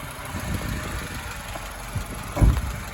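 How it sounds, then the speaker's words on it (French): A car engine turns over and settles into a steady, low idle, with a rough mid-range rumble and a louder burst near the end. "il va démarrer l'auto. Elle démarre."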